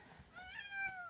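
A pet cat in a camper van gives one drawn-out meow, rising and then falling, close and fairly quiet, with faint room noise underneath.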